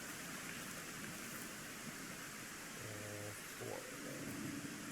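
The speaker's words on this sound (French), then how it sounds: "En plus, il pleut." Steady, dense rain falls in the video game Cairn as a continuous hiss that fills the background. Brief faint tonal game sounds briefly show through it.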